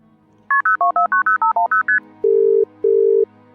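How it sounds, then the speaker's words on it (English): Touch-tone keys being dialed for a company phone number: about ten quick, evenly spaced beeps, then two longer steady tones separated by a short gap, clear and close with no talking. "I called the company phone number."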